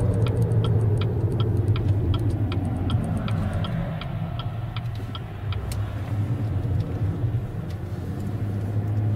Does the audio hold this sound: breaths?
no